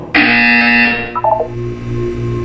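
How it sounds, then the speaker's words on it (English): A loud electronic buzzer from the video game Portal 2 sounds once, a sustained harsh harmonic tone lasting under a second, followed by a lower fluttering tail and steady background hum. "When you hear the buzzer, look down at the floor."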